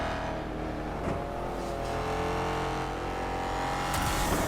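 A futuristic race car engine in the ExoCross Vulcan XC-1500 racing game, with a steady, droning whine holding close and loud on a narrow track. Other engines hum beneath it, and a brief swish passes near the end.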